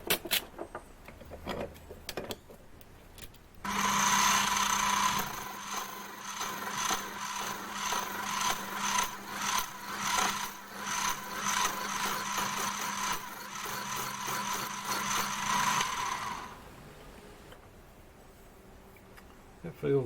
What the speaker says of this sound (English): two discs there, so I have to split them. And chamfer the other side.